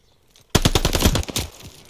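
Rapid bursts of automatic gunfire crack close by at the hardpoint in a Modern Warfare 2 multiplayer match, a quick rattling volley of shots that starts abruptly after near silence and tapers off.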